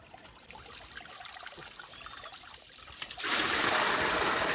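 Water gushes steadily into a very large household storage tank on a village home, a continuous broadband rush that grows louder and fuller partway through as the flow strengthens, with no voices.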